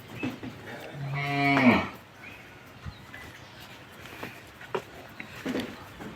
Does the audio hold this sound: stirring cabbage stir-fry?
no